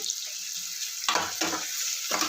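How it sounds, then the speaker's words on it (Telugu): Onions and a bay leaf fry in hot oil for a village-style chicken curry, a constant bright sizzle up close with three or four bursts of louder crackle as they are stirred. "ఉల్లిపాయలు మొత్తం బ్రౌన్ కలర్ అయ్యే వరకు వేయించుకుందాం"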